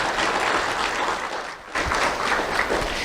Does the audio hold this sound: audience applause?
yes